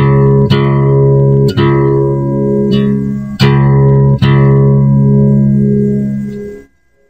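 A sustained low, humming harmonic drone holds steady for about six seconds, with several soft re-attacks along the way before it fades out, playing alone with no talk.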